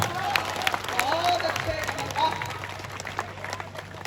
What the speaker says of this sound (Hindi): अभी आपकी तालियों में वो घनत्व तो नहीं आया